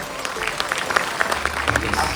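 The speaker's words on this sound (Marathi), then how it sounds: "त्यामुळे जोरात टाळ्या वाजवा" Applause from an audience at a grand opening event, continuous clapping with a crowd murmur that carries across the whole moment, moderately loud and fairly near.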